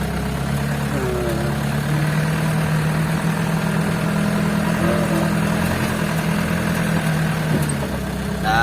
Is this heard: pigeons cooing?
no